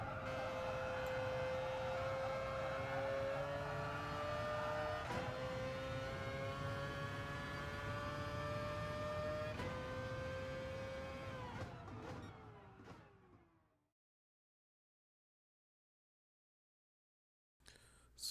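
A race car engine from Gran Turismo Sport among the GR2 cars, a loud sustained high-revving tone that climbs through repeated gear shifts, then fades out to silence near the end before a brief return.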